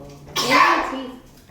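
A single sharp sneeze bursts out close by at a Christmas jumper day gathering, loud and breathy, then tails off quickly over a faint background with no talk.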